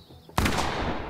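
A single heavy blast from a cannon-like gun in the PS5 horror game The Quarry. It comes after a quiet moment, hits loud and close with a booming crack, then rings out in a long decaying tail.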